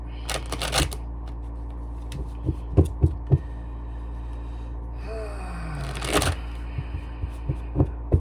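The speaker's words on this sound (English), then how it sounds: "Why am I shuffling again?" Tarot cards being shuffled by hand, with two loud riffling bursts near the start and end and soft taps and flicks of the deck between them, close up, over a low steady hum and no talk.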